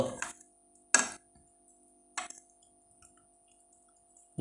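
A spoon stirring salt into aquarium water for hatching brine shrimp gives four sparse, quiet clinks against the container, spread across a near-silent stretch with a faint steady hum beneath.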